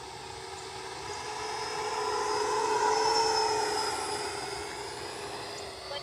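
A Freewing Ares 3D 8S radio-controlled jet with a 90mm ducted fan flies past, its rushing whine swelling as it nears, peaking midway, then fading as it moves away.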